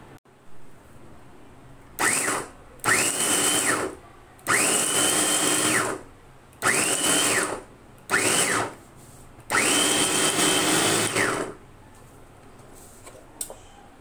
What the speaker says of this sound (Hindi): और ये बॉश का चॉपर है जो मैं आपको पहले भी दिखा चुकी हूँ